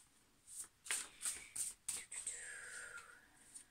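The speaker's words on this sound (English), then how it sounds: "Let's pull from the Angel Tarot cards. Place your energy into the cards." Angel Tarot cards are shuffled close by in a quiet room, in a series of quick papery riffles and slaps followed by a softer, longer sliding rustle.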